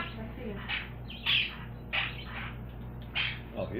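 A lineated parrotlet gives several short, squawky chirps in a loose series, close by, while people talk softly alongside.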